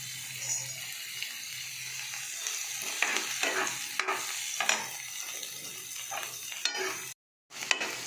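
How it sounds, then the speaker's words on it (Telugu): Finely chopped onions sizzle in hot oil in a kadai, a steady frying hiss under scattered scrapes and stirring knocks, with one brief dropout near the end. "ఈలోగా కడాయిలోని ఆయిల్ వేసి కాగిన తర్వాత మనం సన్నగా తరిగి ఉంచుకున్న ఉల్లిపాయలు వేసుకోవాలి."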